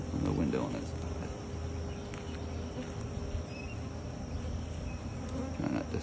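Honey bees from a nuc swarm around a newly set up hive, making a dense, continuous buzzing hum close by with scattered individual insects passing, and occasional faint speech.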